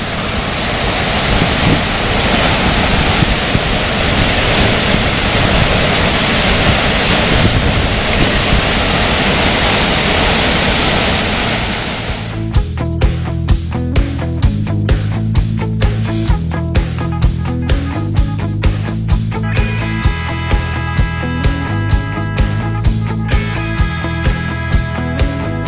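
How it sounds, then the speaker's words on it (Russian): Steady, loud roar of the lower rapids of the Kivach waterfall, the wilder and higher of its two steps, fills the first twelve seconds alone before music takes over. "за моей спиной есть водопад Кивач. Он состоит из двух порогов, и вот нижний самый бурный, самый высокий"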